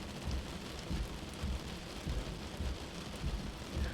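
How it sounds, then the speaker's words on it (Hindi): Heavy rain pouring steadily, with dense hiss and low rumbling thumps recurring every half second or so; no voices. "कुछ ही देर में तेज बारिश शुरू हो गई"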